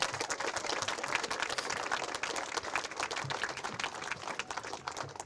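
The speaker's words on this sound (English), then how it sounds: "let's give a round of applause to Brent for his work in making this happen." A small crowd claps steadily for several seconds, a dense patter of hand claps at moderate distance without any speech.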